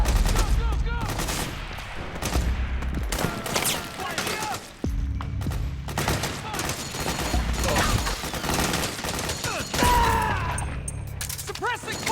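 Battle gunfire in Metal Gear Solid 4, dense overlapping rifle bursts and machine-gun rattles with thuds and crashes, continuous and loud, with shouting voices mixed in.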